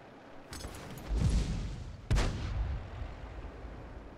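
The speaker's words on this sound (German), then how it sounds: "Schuss ist raus." A G.W. Tiger self-propelled artillery gun fires in World of Tanks, a heavy booming shot followed by a rolling rumble, then a second sharp blast that decays into a long reverberant tail, with no talking.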